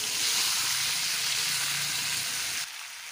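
Vegetables and mustard paste sauté in hot oil for a mustard fish curry with eggplant, a steady close sizzle and hiss that drops noticeably near the end as the heat or pan shifts.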